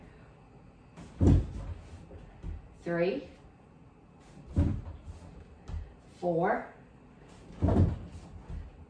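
During a karate class, hand strikes land on the back of a chair: three hard, sharp thumps spaced a few seconds apart, with a voice counting aloud between them.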